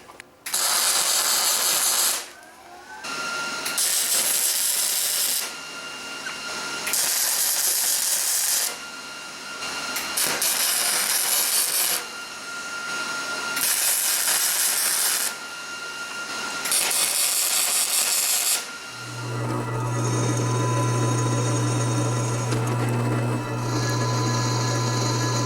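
Welding gussets onto a steel tractor step: loud, close, crackling buzz in repeated bursts of a few seconds each, separated by short pauses, ending in a steadier hum with a low drone.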